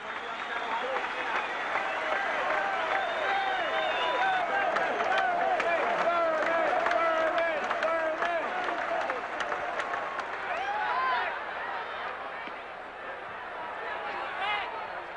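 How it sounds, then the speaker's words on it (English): A baseball stadium crowd gives Thurman a long standing ovation, dense sustained applause and cheering that fills the whole stretch, loud and continuous before easing slightly near the end. "A 9-minute standing ovation."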